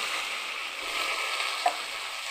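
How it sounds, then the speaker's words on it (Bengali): Spice masala for egg curry fries in a pan with a steady, dense sizzle close by, holding even throughout with one small pop near the end and no talk. "দিয়ে মশলাটাকে আরেকটু কষিয়ে নিলাম"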